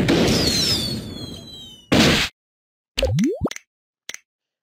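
Video game explosion from a Henry Stickmin bank-heist game: a loud noisy burst, a brief second blast, then a rising whistle and a few sharp pops and clicks with pauses between, no voices.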